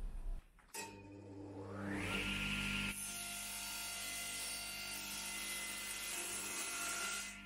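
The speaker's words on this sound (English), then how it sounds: "And then I can use my table saw to cut the exact" Table saw slicing a thin veneer fretboard at an angle, the motor spinning up to a loud steady whine that rises in pitch and then holds as the cut continues, close and alone without talk.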